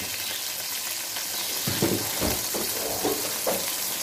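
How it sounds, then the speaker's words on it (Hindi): Spices frying in a pan for egg and potato curry, a steady soft sizzle with a few louder scraping stirs in the second half, close up and without talk. "थोड़ा सा पानी ऐड करेंगे और मसाले को अच्छी तरह हिलाएंगे।"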